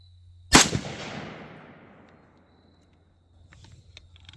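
A single loud, close rifle shot, fired through a red dot sight at a 50-yard swinger target, cracks sharply and then rolls off in a fading echo, followed by faint rustling.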